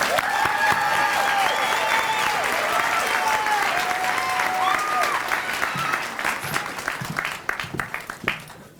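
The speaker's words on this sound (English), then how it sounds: "If we could just give her a warm welcome and just a nice cheer for her." A graduation audience at a winter commencement applauds and cheers a student speaker, with sustained dense clapping and whoops that thin into scattered claps by the end.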